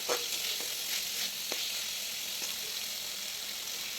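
Spice paste sizzling and frying in oil for a mustard pomfret fish dish, a steady close crackle with a few soft stirring scrapes and pops.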